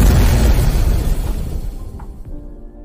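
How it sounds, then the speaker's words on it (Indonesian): A very loud explosion booms at the start, then its rumble decays steadily over a few seconds into near quiet, with a couple of faint clicks near the end. "tiba-tiba terdengar suara ledakan yang sangat keras."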